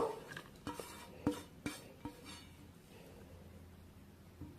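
Washed raw potato strands being moved into a kitchen vessel, heard as a few scattered clanks and soft scraping knocks of utensil against the pot, close by over a quiet background.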